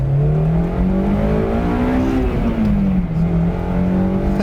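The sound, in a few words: 2008 Honda S2000 CR engine revving in first gear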